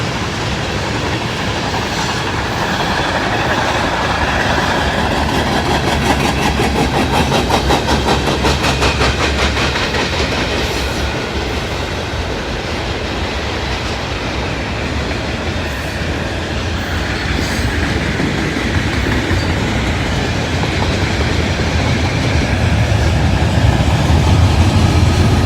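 A Conrail freight train rolls past close by, a loud continuous rumble of wagons with rhythmic wheel clatter and occasional squeal, sustained throughout with no voices.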